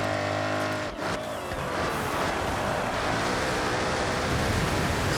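An Alfa Romeo 33 Stradale racing on dirt in Forza Horizon 6, its engine roaring loud and close with rising revs and a brief dip as it shifts, tires scrabbling beneath, no talk.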